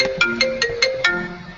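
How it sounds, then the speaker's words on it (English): A phone ringtone rings in a repeating pattern of bright electronic tones, about five quick pulses in succession, loud and close with no talking. "somebody's ringing."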